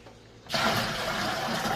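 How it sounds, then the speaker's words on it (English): Water pours steadily into a bucket, a broad rushing splash that starts abruptly and continues loud and close, with a quiet room tone before it begins. "I'm gonna pour it inside the bucket as well"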